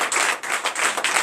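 A church congregation claps in praise at a night deliverance service, a dense burst of many hands beating in quick rhythmic waves, loud and close, with no voices.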